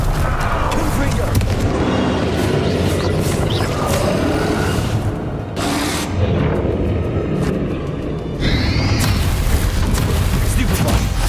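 Repeated Confringo fire-spell explosions in the Hogwarts Legacy video game, loud rumbling booms and blasts layered over dense battle noise with brief lulls, while a voice speaks over the action.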